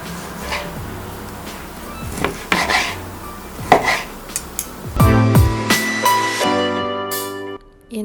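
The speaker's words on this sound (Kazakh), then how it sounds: "Қуырып, дайын болған тауық етін кесіп алыңыз" A knife saws and chops through fried chicken on a board for a sandwich, with close, crisp scraping strokes and clinking against a plate or pan near the end.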